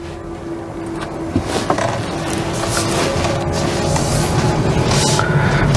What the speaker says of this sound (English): You can hear that gasoline engine.